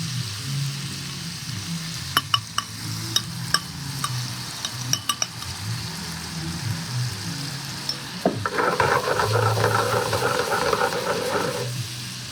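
Honey garlic salmon sizzles steadily in a pan as it caramelizes, with sharp utensil clicks and scrapes early on and a louder burst of frying near the end.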